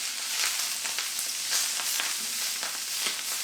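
Kale sautés in oil in a pan with a little salt, sizzling steadily close by while it is stirred, with soft scraping bursts and no talking.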